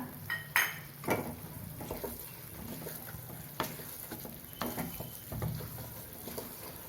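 Rice halwa being stirred in a pan with cardamom and nutmeg powder added, a spoon scraping and knocking against the metal in uneven strokes over a soft background sizzle.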